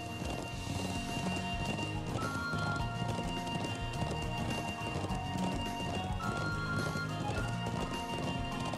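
A horse gallops steadily through the PS4 game Legend of Heroes: Trails of Cold Steel. Rhythmic hoof clip-clops run throughout, with occasional neighs and game music playing underneath.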